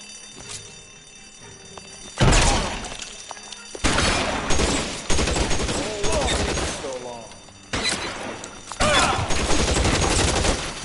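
A shootout in L.A. Noire erupts in loud bursts of gunfire, several clusters of rapid shots separated by short pauses, with voices heard between the volleys.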